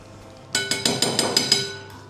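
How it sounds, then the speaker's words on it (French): Eggs being mixed one at a time into yogurt cake batter, giving a quick run of about eight sharp clinks against the bowl, close and fairly loud, with no voices. "on incorpore les œufs un par un."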